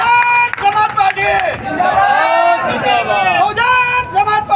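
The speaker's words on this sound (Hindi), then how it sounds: "भारत का संविधान लेकर के बहुत जोर तालियों से स्वागत करते हैं यहाँ पर" Crowd at a Bahujan Samaj Party gathering clapping to welcome a guest, loud and close, with dense rhythmic applause mixed with crowd chatter and a voice speaking over a PA throughout.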